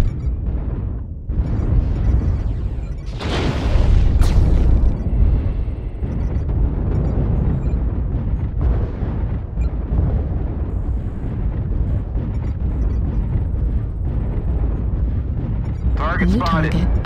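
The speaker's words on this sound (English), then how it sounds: "Airstrike activated." Airstrike explosions in MechWarrior Online, a heavy, continuous rumbling barrage of deep booms with a few sharper bursts, loud and close throughout.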